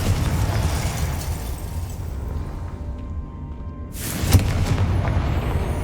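A Confringo fire spell explodes in the Hogwarts Legacy video game, a loud sudden burst and boom rising out of steady rumbling game ambience, then a dense roaring tail, with no talk.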